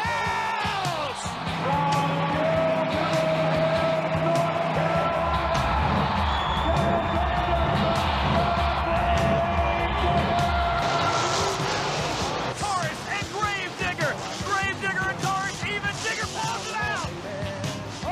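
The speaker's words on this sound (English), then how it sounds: "Anything for the crowd to scream." A packed arena crowd roars, whoops and screams at the 1999 USHRA World Finals monster truck show as Grave Digger runs. The loud, continuous din fills the space, with engine rumble and announcer-style shouting mixed in.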